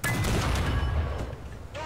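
A short burst of rapid automatic gunfire from a tank machine gun in War Thunder, IS-2 1944, loud and close, dense and continuous for most of the moment before tapering off.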